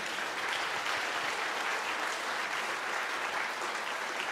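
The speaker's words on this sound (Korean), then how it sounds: "우리 감사의 박수 한번 하겠습니다" A church congregation gives sustained applause in thanks to a Korean traditional music praise team at a joint worship service, dense and even clapping throughout with no pause.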